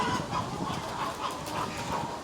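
Chickens clucking in a busy daytime flock as a batch is loaded at a farm, steady overlapping cackles and calls filling the air at moderate loudness with no voices.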